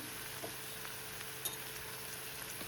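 Garlic paste sizzling faintly in a pan with onion and tomato, a soft steady frying hiss with occasional tiny pops and no talking.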